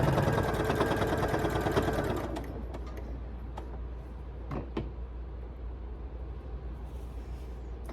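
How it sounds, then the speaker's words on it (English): A sewing machine runs in a dense, steady stitching burst for about two seconds while fabric is sewn, then stops, leaving quieter handling clicks and knocks from the table. "Then we're going to keep stitching like we were stitching a second ago."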